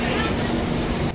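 Interior of a passenger train bound on a trip to Ujjain: a loud, steady rumble of the carriage in motion fills a brief moment, with a faint high whine over it.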